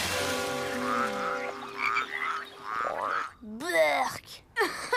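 A cartoon toad croaks in a countryside scene, giving a few loud, warbling, rising-and-falling calls after a stretch of music, with a brief pause between the croaks.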